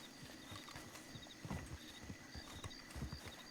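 Horse hooves clip-clop in an uneven rhythm in a Wild West roleplay video game, fairly quiet over a faint constant background tone.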